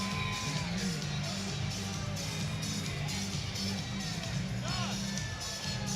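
Crowd at a Birmingham Bulls ice hockey game against the Fayetteville Marksmen in Birmingham, Alabama, on Hawaiian shirt night, giving a continuous arena roar with scattered yells and whoops and a low murmur underneath.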